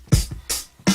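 A punchy drum pattern with kick thumps and bright snare or hi-hat hits, repeating in a syncopated groove, loud and close.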